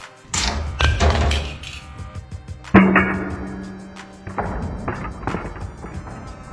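Two phones, an iPhone 13 Pro Max with a stainless steel frame and a Pixel 6 Pro, dropped on their corners, giving sharp hard impacts followed by a clattering tumble, close and fairly loud, without talk.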